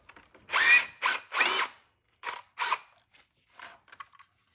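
A power tool removes the timing belt tensioner bolts on a Honda Odyssey 3.5L V6. It runs in several short, loud whirring bursts of about half a second each, then fainter brief spurts, with quiet gaps between them.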